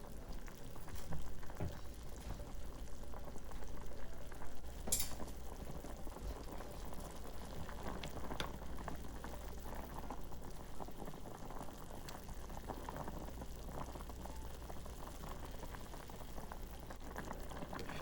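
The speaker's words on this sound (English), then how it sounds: "bring the water to a boil" Water with beef cubes boils vigorously in a pot, a steady bubbling and seething close by with no talk.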